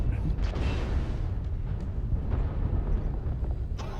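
An artillery strike in the mech combat game Mechwarrior Online sounds as a loud rumbling barrage of heavy booms and crackling impacts that rolls on continuously, with a voice speaking faintly over it.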